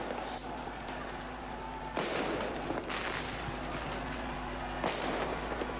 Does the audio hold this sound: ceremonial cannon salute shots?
yes